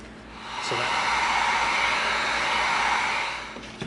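A heat gun blows steadily on a super thick piece of EVA foam to soften and curl it, a continuous loud whooshing roar that rises and holds for a few seconds, then tapers off.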